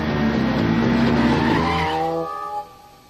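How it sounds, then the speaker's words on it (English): A cartoon motorcycle on a racetrack skids past with a loud screeching tire squeal and engine roar that sweeps and fades away, ending in a faint whine. "There appears to be a motorcycle on the racetrack."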